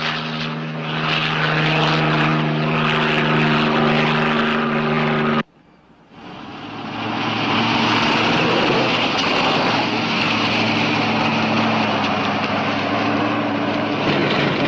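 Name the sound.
police helicopter flying over highway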